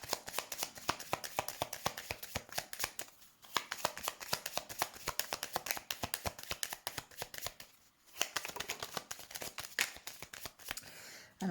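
Tarot cards are shuffled and flipped in a steady, quick run of crisp riffling snaps, close and continuous with two brief pauses, no talking.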